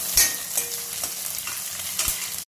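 Sliced onions and curry leaves frying in a pan, a steady close sizzle with a few stirring knocks and scrapes against the pan, no voices, ending abruptly.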